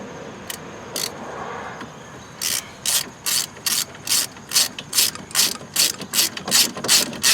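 A hand ratchet clicks in quick, rhythmic strokes, close and clear, while tightening outer tie rod end parts on a Chrysler PT Cruiser, after a couple of isolated clicks at the start.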